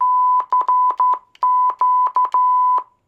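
Loud CW radio side tone, a single steady pitch keyed in short Morse dots and dashes in an irregular rhythm, heard alone without speech.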